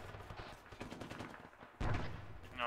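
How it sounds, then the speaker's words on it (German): Gunfire from Arma 3 strikes a tank: a dense, continuous rattle of shots, then a sharper, louder burst near the end, with no talking. "Der Panzer wird beschossen."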